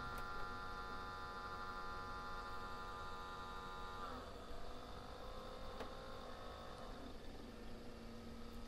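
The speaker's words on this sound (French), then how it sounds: "Oh, le bruit du ventilo." Noisy cooling fan of a dead game console, a steady whirring hum with tonal whine that shifts in pitch partway through, faint and continuous with no talking.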